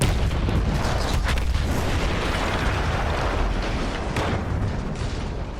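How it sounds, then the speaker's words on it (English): A large explosion in the World War I shooter Battlefield 1 roars as a loud, dense, sustained rumble that fills the whole clip and fades only slightly at the end. "That explosion was one of the sweetest sights of the war for me."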